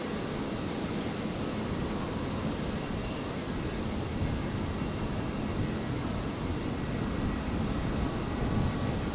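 A Qantas Boeing 737 airliner's engines roar steadily at Brisbane Airport, a loud, continuous broadband rumble with no break across the stretch.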